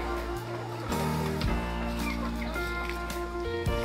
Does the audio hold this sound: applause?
no